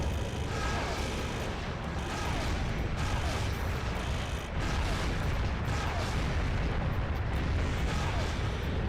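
Sustained, dense gunfire as ammunition is emptied into a monster in a video game, loud and continuous with bursts layered over a rumbling background and no gaps.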